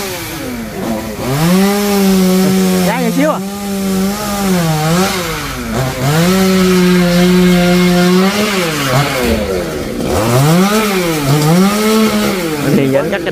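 A chainsaw cuts down a coconut tree, its engine droning loud and steady with repeated rises and falls in pitch as it bites into the trunk, while people talk over it.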